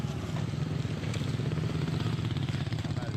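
A motorcycle engine in Burma gives a steady, close, low rumble that holds evenly throughout, with faint background noise.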